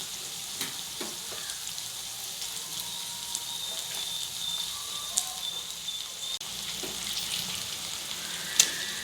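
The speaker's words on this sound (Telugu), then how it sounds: "ఇప్పుడు దీనిలో ముందుగా కడిగి పక్కన పెట్టుకున్న మటన్ వేసేసేద్దాం." Washed mutton fries in a pan with tomatoes for gongura curry, giving a soft, steady sizzle with scattered small pops and crackles throughout and no voices.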